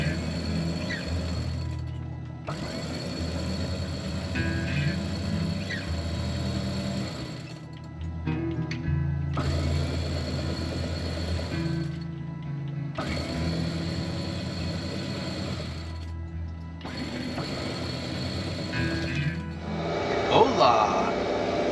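A sailboat winch ratchets in repeated bursts while the sails are put out at sea, a clicking mechanical whir coming in several runs of a few seconds each with brief pauses between them, close and fairly loud.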